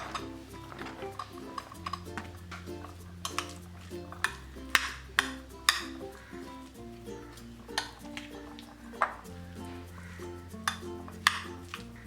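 Boiled potato mashed with a spoon in a bowl, producing scattered clinks and scraping knocks at an irregular pace over steady, tonal background music.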